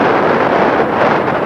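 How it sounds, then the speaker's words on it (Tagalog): Strong wind buffets an SJCAM SJ6 Legend action camera's microphone, making a loud, continuous roaring rumble with no other sounds above it. "Palong-palo sir ang hangin."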